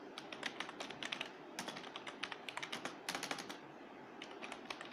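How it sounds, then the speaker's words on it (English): Someone types on a Cooler Master CM Storm Octane gaming keyboard. Quick, clicky keystrokes come in irregular bursts, close and fairly quiet, with nothing else in the background. "So I will type on this CM Storm Octane gaming keyboard, and you guys can get a feel of how it actually sounds when I'm typing over it"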